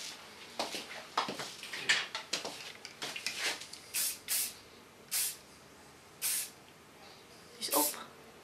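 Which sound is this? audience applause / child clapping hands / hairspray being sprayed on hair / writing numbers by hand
hairspray being sprayed on hair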